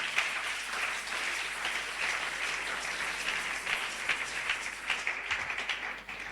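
A church congregation applauds throughout, a steady dense roar of many clapping hands that holds at even loudness from start to finish with no voices on top.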